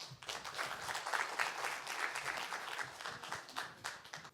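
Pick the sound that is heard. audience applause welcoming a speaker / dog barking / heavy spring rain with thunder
audience applause welcoming a speaker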